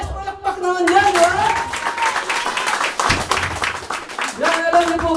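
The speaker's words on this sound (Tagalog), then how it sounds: "Palakpak naman yan" An audience at a company talk breaks into steady applause, dense clapping from many hands that swells and holds, with the speaker's voice and music running over it.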